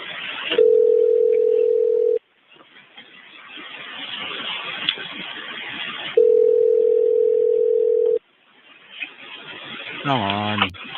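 A telephone line tone sounds in two long steady bursts separated by a room-noise gap, on a call to a dispatch office that goes unanswered, followed by a short sweeping tone at the end.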